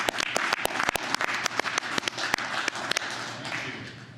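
Attendees at a fire district board meeting clap in a room, a scattered run of sharp, uneven claps from a small group throughout, with faint background murmur.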